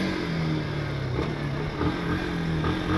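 A 160 cc motorcycle leaning through curves on asphalt, its engine giving a steady, moderately distant hum with slight rev changes and no voices.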